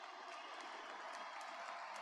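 A crowd of more than 36,000 at a Tampa Bay Rays versus Cincinnati Reds baseball game rises with a steady, broad roar of cheering and applause that holds at an even level throughout, dense and somewhat distant.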